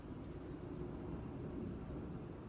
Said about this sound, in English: You're going to hear the airplane flying above.